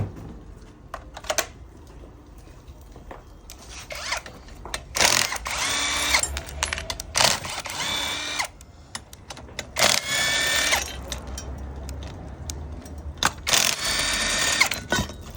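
Handheld power nut runners run in short whirring bursts of about one to two seconds each, separated by brief pauses, fairly close and moderately loud, with no talking.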